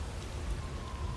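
Steady rainstorm in God of War Ragnarok, a dense continuous hiss of rain on surfaces with a low rumbling bed, heard alone without voices.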